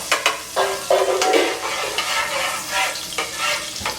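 Butter melting and sizzling in a pan for fried potatoes O'Brien, a steady close sizzle broken by a few clinks and stirring scrapes, with no talking.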